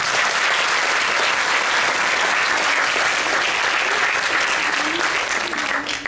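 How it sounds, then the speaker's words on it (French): Audience applause at the Monaco Magic 2023 opening ceremony, dense, loud and continuous for about six seconds. "Bah alors on l'applaudit, Donovan!"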